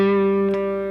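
A single overdriven electric guitar note rings out with a dense, sustained harmonic tone, dry with no echo, holding steady for about a second before cutting off.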